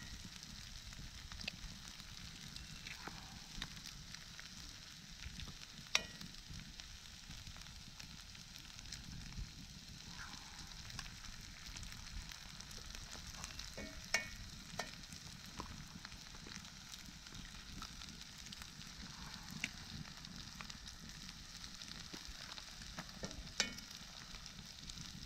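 Eggs frying in a pan over a campsite stove, a steady, continuous sizzle and crackle that holds at an even, moderate level throughout with scattered small pops and no talk.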